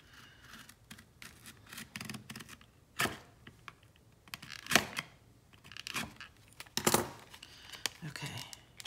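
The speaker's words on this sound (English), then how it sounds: "That's what I usually do, is just rip it open." Cardboard and plastic product packaging for a knife is torn and ripped open by hand in several sharp, loud bursts with crinkling in between, close by, with no talking.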